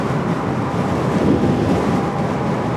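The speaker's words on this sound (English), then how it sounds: "It is kind of windy. I'm sure you hear the wind." Wind buffeting the microphone outdoors beside an e-bike, a loud, steady, rumbling roar with gusty swells and no other sound over it.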